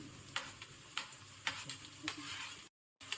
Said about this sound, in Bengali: প্রথমে টমেটোটা দিয়ে দিলাম